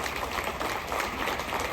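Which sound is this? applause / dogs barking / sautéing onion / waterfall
applause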